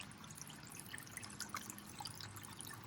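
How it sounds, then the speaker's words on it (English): Water trickles steadily from a small waterfall in a garden pond, a soft continuous splashing and dripping close by with no voices. "But we've got a little waterfall over there."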